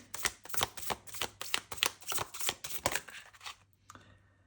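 A deck of tarot cards gets shuffled up close in a quick series of crisp riffling slaps and flicks, about a dozen bursts in steady rhythm before it stops.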